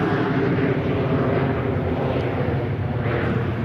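Ryanair airliner jet roaring at Manchester Airport, a loud, steady broadband rumble that stays close and constant throughout with no break.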